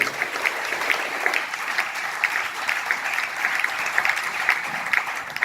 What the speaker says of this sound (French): Donnons une belle acclamation au Seigneur